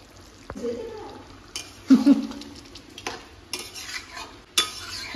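Chicken added to a hot pan for spicy chicken kosha, with a burst of sizzling followed by stirring scrapes and sharp clinks of a utensil against the pan, close, with people talking nearby.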